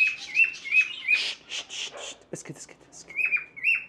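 Birds chirp and squawk in a café game simulator, likely curlews and ducks among them. Repeated sharp whistled calls come up close and loud, with a voice cutting in.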